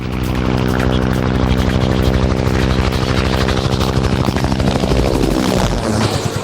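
A Bell AH-1 HueyCobra attack helicopter's rotor thumps rapidly and steadily over a loud droning engine whine, close and powerful throughout.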